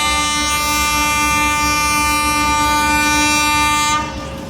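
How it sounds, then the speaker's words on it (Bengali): Narayanganj commuter train passing through Juren level crossing near Dhaka, a loud sustained multi-tone horn blaring close by for about four seconds over rumbling wheels, then cutting off. "নারায়ণগঞ্জ কমিউটার ট্রেনটি জুরেন রেলগেট থ্রু পাস করে যাচ্ছে"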